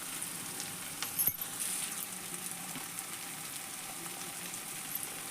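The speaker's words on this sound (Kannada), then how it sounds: "ಹಾಕ್ಕೊಂಡು ಎಲ್ಲ ಫ್ರೈ ಮಾಡ್ಕೊಂಡ್ರಿ ಎಣ್ಣೆ ಒಳಗೆ" Cauliflower curry sizzles in oil with dry masala, chilli powder, salt and garam masala, a soft, steady frying hiss with a brief louder crackle near the start.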